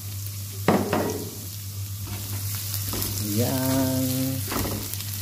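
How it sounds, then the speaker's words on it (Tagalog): Ginger sizzling in a hot pan as garlic is added, a steady bright frying hiss with a couple of sharp clinks early on. A voice speaks briefly over the sizzle partway through. "Tapos lalagyan natin ang ating bawang"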